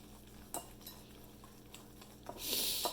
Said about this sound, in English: it's time to add the mix to the Rava Idli batter and mix it up thoroughly